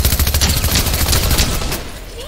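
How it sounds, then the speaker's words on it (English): Rapid bursts of assault rifle fire in Fortnite, loud and close, with shots rattling in quick succession before tapering off at the end. "You're missing all your shots."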